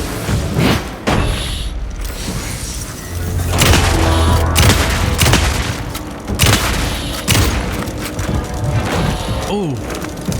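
Heavy booming blasts and thuds in Alan Wake 2 combat, several loud shotgun-like reports spaced irregularly among clanks and crashes, close and forceful.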